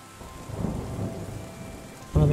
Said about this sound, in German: Okay, es regnet